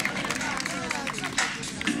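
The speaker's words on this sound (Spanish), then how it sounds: "Fuerte aplauso." Crowd at the finish of a nighttime half marathon in Miramar clapping for arriving runners, a brief burst of applause mixed with crowd chatter and a voice talking over it.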